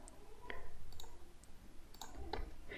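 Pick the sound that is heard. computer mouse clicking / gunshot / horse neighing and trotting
computer mouse clicking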